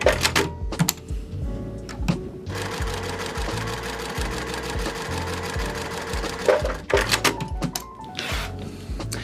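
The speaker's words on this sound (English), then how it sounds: "I'm going to sew a 1/4 inch on each side of that line" A sewing machine stitches quarter-inch seams through quilt fabric pieces for half-square triangles, making rapid, continuous rattling runs with brief pauses and clicks between bursts, close and alone.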